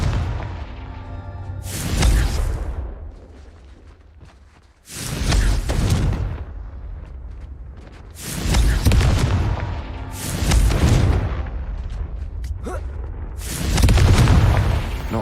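Confringo fire spell blasts in Hogwarts Legacy, several loud booming explosions in a row, each a broad roaring burst that swells and fades, spaced a couple of seconds apart.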